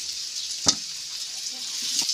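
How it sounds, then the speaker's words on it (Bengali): Cut pumpkin pieces fry in oil already used for potatoes and jackfruit, giving a steady soft hiss of sizzling, with one sharp crackle or stir knock near the start and another near the end. "কুমড়োগুলো ভেজে তুলে নেব।"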